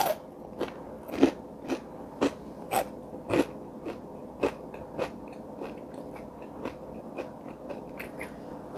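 Crunchy fried tempeh is bitten and chewed close to the mic, a steady series of sharp crackling crunches roughly every half second over several seconds, with no talking.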